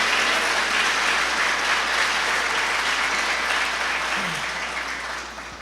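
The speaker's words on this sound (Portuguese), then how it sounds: "Dá um aplauso para ele de novo, glória a Deus." A church congregation applauds, a broad, continuous wash of many hands clapping that holds steady and then gradually fades toward the end.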